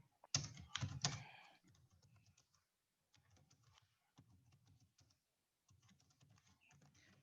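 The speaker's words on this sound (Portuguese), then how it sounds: "tô digitando errado" Someone types on a computer keyboard, starting with a loud burst of rapid close clicks, then softer intermittent runs of keystrokes separated by short silences.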